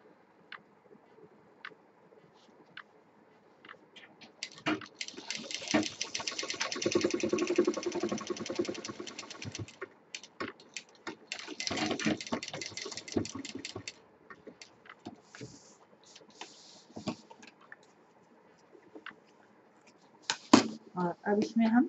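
A sewing machine double stitching a shoulder bag, its needle chattering in rapid ticking bursts of several seconds each, separated by pauses and scattered clicks, fairly close and moderately loud.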